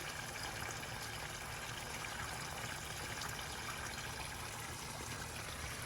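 Garden pond waterfall trickling steadily, a constant broad splashing wash of falling water with no pauses and nothing else over it.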